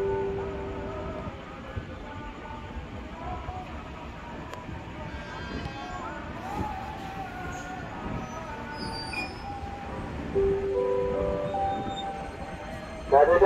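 A KRL commuter train pulls out of Manggarai station on a busy platform, steady rumble and rolling wheel noise with high squeals and tonal hums, station ambience throughout and a louder burst at the end.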